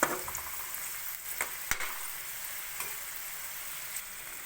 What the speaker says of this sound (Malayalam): നമുക്കിതൊന്ന് ഒരു മീഡിയം ഫ്ലെയിമിലിട്ടിട്ട് നന്നായി ഒന്ന് വറുത്ത് കോരിയെടുക്കാം